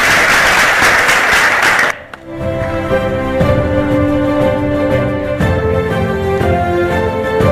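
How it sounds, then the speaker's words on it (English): At a women's awards ceremony, a burst of loud audience applause lasts about two seconds before giving way to tonal music with sustained notes. "Let's have a huge round of applause, everyone"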